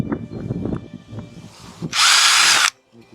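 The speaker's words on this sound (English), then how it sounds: "Making it big enough for the rivet." A power drill whines loudly in one burst of under a second, widening a hole for a rivet in an IKEA Hoppvål blackout blind, after quieter handling and rustling noises.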